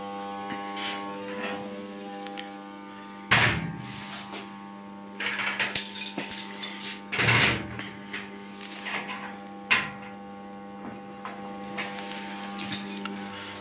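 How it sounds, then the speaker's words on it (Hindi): Carbon-fouled contacts in an LT electrical panel give a steady electrical hum throughout, with occasional metallic clicks, knocks and rattles of handling on top. "कार्बन आने की वजह से ये हमिंग की आवाज़ कर रहे हैं"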